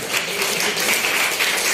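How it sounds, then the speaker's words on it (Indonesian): Students give a short burst of hand clapping in a classroom session. The applause is steady and loud from a group and lasts under two seconds. "Tepuk tangan dulu supaya kita semangat."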